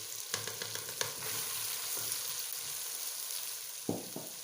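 Minced chicken keema sizzles in a pan, a steady hiss of frying with occasional scraping knocks from stirring, fairly quiet and close.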